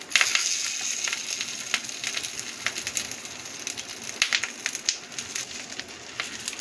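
Bhetki paturi wrapped in banana leaf sizzles on a hot tawa, a steady soft crackle with scattered sharper pops and ticks, close up and alone with no talking.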